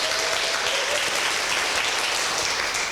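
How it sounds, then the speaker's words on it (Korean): Audience applause following a motivational business speech at a group seminar, a dense, steady wash of clapping that fills the room at full volume and holds evenly throughout with no voices over it. "응원의 박수 부탁드리겠습니다."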